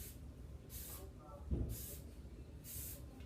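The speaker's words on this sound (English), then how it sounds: "Now I'm going to use hairspray" Hairspray hisses from a can in three short bursts while styling a short-hair twist up-do, each puff a brief breathy spray at close range, with low talking underneath.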